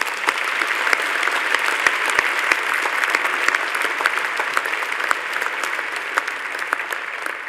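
A hall full of people applauding graduates at a university medical faculty graduation ceremony, dense, sustained clapping with sharp individual claps standing out, held at a steady level throughout.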